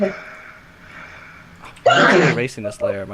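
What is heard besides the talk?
sneeze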